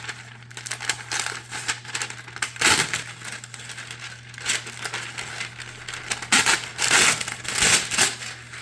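Parchment paper being handled and folded to line a 9-inch cake pan, making repeated close crinkling and crushing rustles in uneven bursts, with no one speaking.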